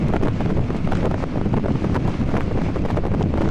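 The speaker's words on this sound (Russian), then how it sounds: "еду, но ветер, конечно, адский." Strong wind roars and buffets the microphone continuously while cycling, a loud, rough rumble with gusty fluctuations throughout.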